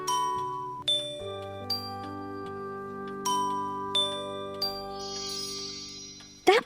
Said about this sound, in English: firstly, you need to ring the bells